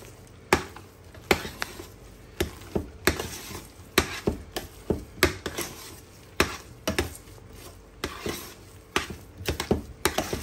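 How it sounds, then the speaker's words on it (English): Pastie pie filling stirred with a utensil in a pot or bowl, a series of sharp knocking scrapes and clacks arriving at an uneven rhythm, close and fairly loud, with no talking. "I'm going to stir this together."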